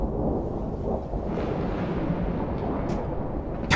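Thunder rolls in the rainy Rain World Downpour video game as a continuous low, heavy rumble with steady loudness, broken by a couple of sharp crackling bursts toward the end.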